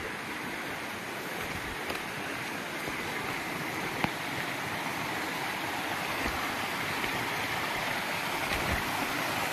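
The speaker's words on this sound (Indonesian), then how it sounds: "Akhirnya kita menemukan sungai, guys. Sungainya bersih sekali, jernih sekali." A clear mountain river flows beside a trekking trail on Mount Ciung, giving a steady, full rushing and babbling wash of water that stays constant and close with no voices.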